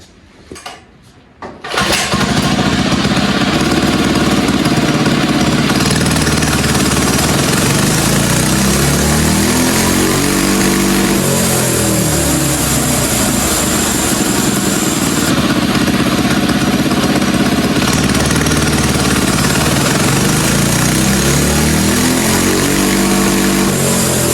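A Massimo MB100 79cc mini bike engine, needle set in position 2, fires up after a brief quiet start and runs loud and close on a dyno, revving up and down in long sweeps with a steady buzzing drone.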